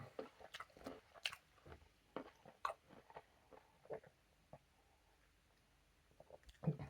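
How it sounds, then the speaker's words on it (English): Someone chews Mr Filbert's Proper Job peanuts, with quiet, close, irregular crunches and bites scattered over a faint, near-silent background. "So I'm not going to bore you anymore by munching these"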